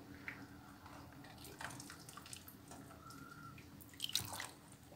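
Cabbage boiled in salted water is lifted out, shedding faint scattered drips and trickles of water, very quiet and close.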